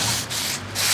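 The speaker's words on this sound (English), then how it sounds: "Now I'm just sanding where the piece of wood will go" Wood is sanded by hand during an old catamaran refit, a close, loud, continuous scratchy rubbing in three strokes separated by brief dips.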